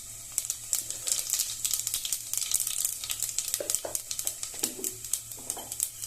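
Cumin seeds hit three large spoonfuls of hot oil in a pan, giving a close, continuous crackling sizzle with sharp pops scattered throughout.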